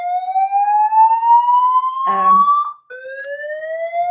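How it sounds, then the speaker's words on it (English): A building fire alarm blares with a loud, continuous electronic whooping tone that sweeps slowly upward, briefly broken by a short voice burst and a momentary dropout before the siren resumes. "We have just had a fire alarm in our building"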